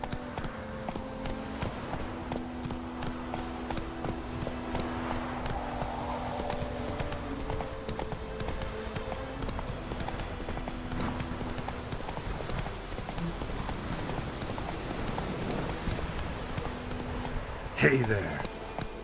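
Roach the horse galloping in The Witcher 3, a steady rhythmic clip-clop of hooves running close and continuous under game music, with a brief louder burst near the end.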